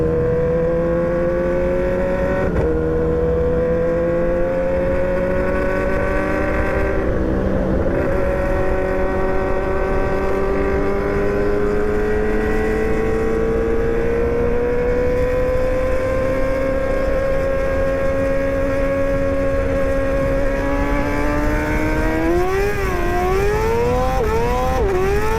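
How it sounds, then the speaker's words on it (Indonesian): A Yamaha R6 motorcycle engine revs loudly and steadily with a slipping clutch, its pitch holding high and climbing slowly before wavering into sharp rev swings near the end, close and continuous. "Slip kopling gitu anjir motornya Apri."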